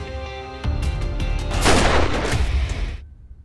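A loud gunshot blast in a Hindi crime drama set among Gujarat police, with a sharp burst followed by a dense roaring echo that swells and then cuts off abruptly.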